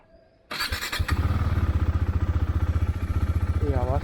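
A motorcycle engine cranks and fires up, then settles into a loud, steady, throbbing idle close by.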